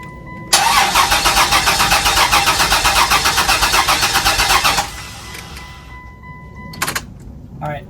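A car engine cranks and catches after refuelling, then runs loudly and steadily for about four seconds before dropping to a quieter idle, followed by a brief door-like knock.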